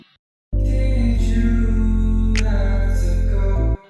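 A sustained R&B-style vocal note is drenched in reverb set to maximum size and fully wet in FL Studio, giving a thick, roomy wash that holds for about three seconds before cutting off.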